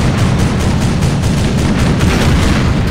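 Heavy cannon fire from an American tank in the Desert Combat video game, a dense run of rapid booming blasts with deep rumbling low end, loud and close with no break.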